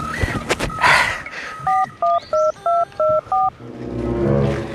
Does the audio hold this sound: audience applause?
no